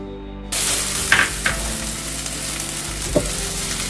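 Chopped onions sizzle steadily in hot oil in a pan, fried as the base for a homemade pizza sauce. The frying is loud and continuous, with a few soft stirring clinks, and no voices.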